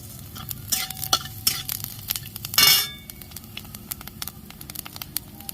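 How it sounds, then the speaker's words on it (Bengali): Ginger and fennel seeds crackle and sputter in hot oil in a pan, a light patter of sizzling with several sharp clinks of a spoon stirring and a short louder burst of frying midway. "আদা দিয়ে দিচ্ছি সব একসাথে আমি একটু ভেজে নেব মৌরি দিয়ে দিচ্ছি"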